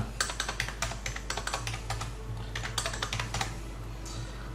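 An employee ID is typed on a computer keyboard, a quick run of light, close key clicks in uneven bursts over a steady low hum, with no speech.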